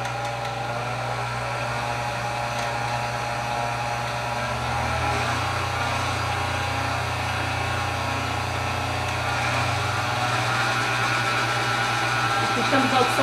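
A stand mixer's electric motor hums steadily and close up, starting at its lowest setting and stepping up in speed, with its pitch and loudness rising in stages over the clip.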